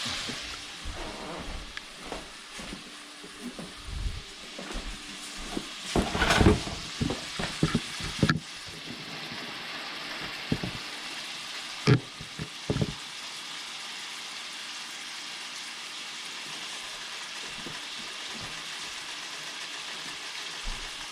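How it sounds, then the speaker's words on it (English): Bacon frying in a pan as its fat renders, heard as a low crackling sizzle with occasional clatters and scraping bursts of stirring early on, then a steadier quiet fry. "Now the bacon's starting to cook down and the fat's starting to render"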